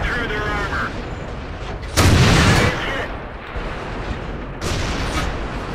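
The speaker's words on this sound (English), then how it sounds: "That artillery took a shot at you." Artillery fire in the tank battle game World of Tanks: a loud, close booming blast bursts out, followed later by another heavy shot, with game noise throughout and a voice talking over it.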